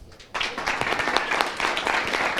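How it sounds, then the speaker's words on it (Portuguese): Dense audience applause fills a Brazilian retail media talk, beginning after a brief quiet moment and holding at a steady, close, crowded level to the end. "eu vou pedir uma salva de palmas"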